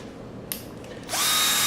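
A Bosch 12V drill-driver spins up near the end with a steady, rising high-pitched whine, after a brief trigger click and quiet handling noise.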